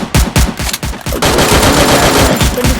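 Gunfire in the Free Fire video game: a rapid run of loud, close automatic shots gives way to a dense sustained burst of firing, with no talk over it.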